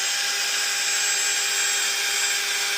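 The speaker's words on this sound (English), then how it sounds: "Time to go with the polishing pad." A power drill fitted with a polishing pad works a plastic headlight lens on a high-mileage GMC Yukon XL, giving a loud, steady, unbroken whine with a constant high motor tone throughout.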